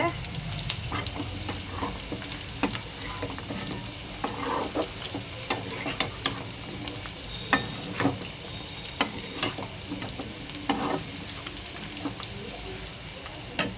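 Chicken fry biryani being stirred in a pan, with steady sizzling and frying under repeated scraping and clinking strokes of a spoon, close and fairly loud.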